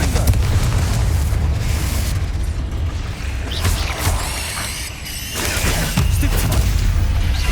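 Confringo fire spell blast in Hogwarts Legacy, a booming explosive impact over dense, continuous combat effects and rumble, loud and close.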